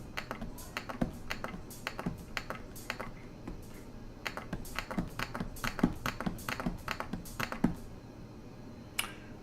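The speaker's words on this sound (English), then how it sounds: "all I'm going to do is press pads and press the cursor to go to the next step" A close run of soft clicks and taps in an uneven rhythm as pads and the cursor button on a Roland MV-8800 drum machine are pressed one after another, with no talking.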